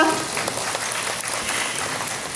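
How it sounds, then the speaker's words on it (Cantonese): Audience applause at a memorial event honouring a Cantonese opera performer, a steady wash of clapping from a crowd that holds evenly throughout. "俾多啲掌聲"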